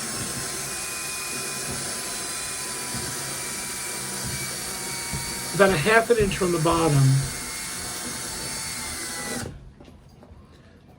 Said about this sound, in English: I'm gonna take out my trusty drill, and what I'm gonna do is I'm gonna drill a hole into the actual stage.